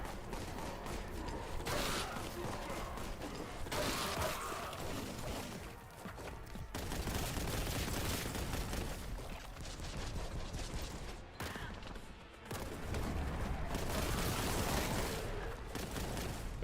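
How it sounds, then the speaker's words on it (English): Dense, continuous gunfire and bursts of explosions from Warhammer 40,000: Boltgun, a retro-style shooter, loud and sustained throughout with brief dips in intensity. "how things explode when you shoot them"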